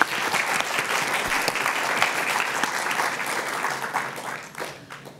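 Audience applause greets Shelly, a speaker at an AI and music festival session on machine listening, a steady, dense wash of many hands clapping that holds evenly for about five seconds before tapering slightly.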